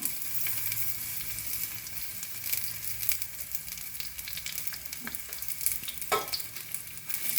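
Crushed garlic and sliced onion frying in a pan, a steady close sizzle with occasional stirring scrapes and clicks throughout, no voices.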